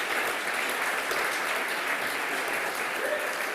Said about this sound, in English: so we can give you a really warm round of applause